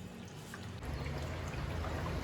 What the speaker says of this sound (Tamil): ஸோ இங்கே நான் ஊற்ற போகிறேன். ஸோ கொஞ்சம் கொஞ்சமாக ஊற்றுங்க, ஸ்பில் ஆகாமல்.